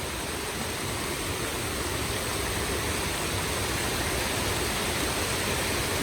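An indoor water feature in the Galleria mall in Abu Dhabi flows continuously, a steady, even rushing wash of falling water that fills the space without a break.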